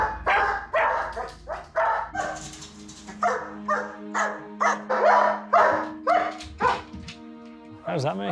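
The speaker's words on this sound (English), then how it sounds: "He's barking already, isn't he?" A dog left alone in the house barks and yips repeatedly in rapid bursts, loud and close, with whimpering whines between the barks.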